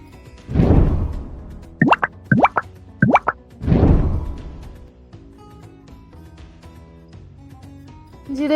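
Sliced ginger and garlic drop into hot coconut oil in a pan, making a run of close, loud plops and soft thuds followed by a quieter stretch.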